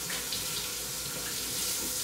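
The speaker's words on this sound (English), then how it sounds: "Kind of sticky, so let me wash it." Sticky hands being washed under a running kitchen tap while making a strawberry cream pie: a loud, steady, close rush of water into the sink.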